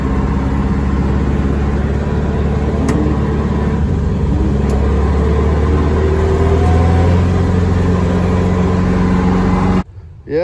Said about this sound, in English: Tow truck's here.